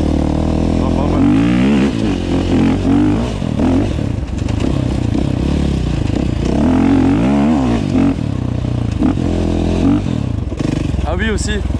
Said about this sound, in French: je vais faire quelques accels